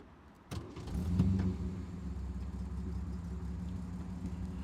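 A 3-litre Austin Healey 3000 Mk1 from the 1950s, a British classic sports car, starting up with a sudden catch and rising engine note, then settling into a steady low idle, heard alone and fairly quiet.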